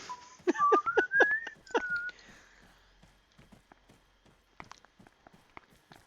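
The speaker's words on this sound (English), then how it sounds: "anonymous whistling." A person whistles a short, bright melodic phrase, close and clear, followed by quiet footstep-like taps and light clicks.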